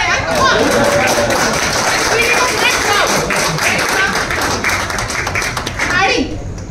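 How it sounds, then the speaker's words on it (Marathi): Sustained applause from an audience at a Marathi film trailer launch event, dense and steady clapping for nearly seven seconds before trailing off, with some voices mixed in. "प्लीज आमच्यासाठी टाळ्या वाजवा यार"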